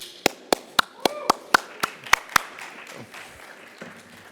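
At a panel event on metaverse architecture, a run of about nine sharp, evenly spaced claps rings out close by in a steady rhythm, then fades into quiet room noise and a faint voice.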